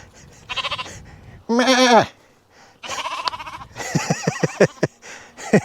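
A sheep with its head stuck on a Portugal farm bleats loudly and repeatedly at close range, several wavering cries in quick succession with short gaps between them.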